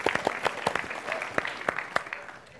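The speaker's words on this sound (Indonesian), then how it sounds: "tepuk tangan untuk Wisband" A studio audience at a televised stand-up comedy battle claps for a comedian, a thin burst of distinct handclaps, uneven and fairly close, fading toward the end.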